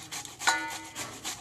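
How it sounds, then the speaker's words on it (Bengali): Ripe mangoes rubbed against a hand grater make a run of close, rhythmic rasping strokes, each a short scrape with brief gaps between. "আমগুলো ঘষে নিচ্ছি।"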